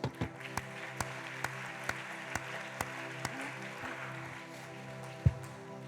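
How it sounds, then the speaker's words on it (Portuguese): A church congregation at a Sunday morning service claps in a slow, evenly spaced rhythm, each beat a sharp distinct clap against a low steady background hum, ending with one louder thump. "pode aplaudir"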